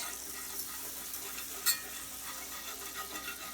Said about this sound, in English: we're going to sprinkle some flour into the oil here, about a 1/4 cup.